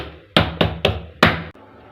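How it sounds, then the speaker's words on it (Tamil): A steamed egg block is tapped out onto a plate in four sharp, hollow knocks in quick succession, close and fairly loud, followed by a brief quiet tail. "கத்தி வச்சுட்டு எடுத்துகிட்டு ஒரு தட்டத்தில் கவுத்துக்கலாம்"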